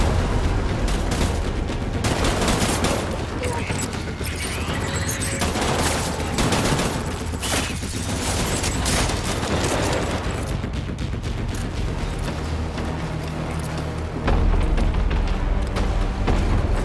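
Dense, continuous gunfire follows an order to open fire, with overlapping rapid shots and booming bursts, loud and unbroken for the whole stretch.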